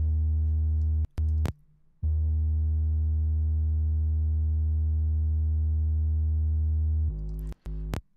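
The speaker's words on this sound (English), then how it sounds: "I've got this sub bass" A deep, smooth hip hop sub bass preset made in Ableton's Operator holds steadily for several seconds, with short gaps and clicks at note changes near the start and end.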